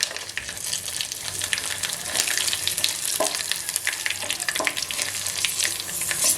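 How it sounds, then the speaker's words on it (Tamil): Mustard seeds and dried red chillies sizzling in hot oil, a dense continuous crackle with tiny popping bursts and occasional stirring sounds, close and steady with no voices. "எண்ணெய் நல்லா சூடாச்சு கடுகு சேர்த்துக்கலாம் இது கூட வரமிளகாய் சேர்த்துக்கலாம்"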